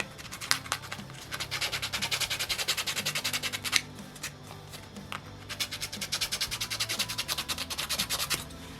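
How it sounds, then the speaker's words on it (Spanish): A piece of a 3D stegosaurus model kit is sanded in quick, steady back-and-forth rasping strokes, close and fairly quiet, with a short pause midway. "Si está un poco dura, también podemos lijar, preferiblemente esta pieza."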